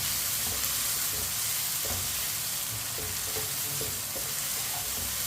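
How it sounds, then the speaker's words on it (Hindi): Onions frying in a pan for a Pakistani-style onion sabzi, with a steady close hiss of sizzling oil and soft scraping stirs breaking through now and then. "प्याज को अच्छी तरह 2-3 मिनट के लिए पका लेंगे।"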